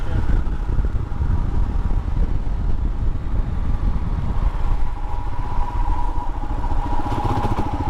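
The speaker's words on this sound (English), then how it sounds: "It's the most comfortable motorcycle I have ever ridden" A Royal Enfield Himalayan BS4 motorcycle rides along with a steady, close engine drone and wind rumble throughout, loud and continuous without a break.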